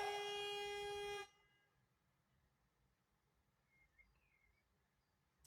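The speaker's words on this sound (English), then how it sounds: "Someone's impatiently beeping." A car horn blares in one loud, steady sustained honk, then cuts off abruptly, leaving quiet background with faint distant sounds, before another blast starts at the very end.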